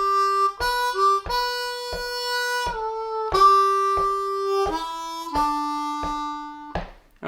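A harmonica in second position plays the opening phrase of Amazing Grace, a run of clean sustained notes separated by brief breath gaps, close and loud with nothing else in the background.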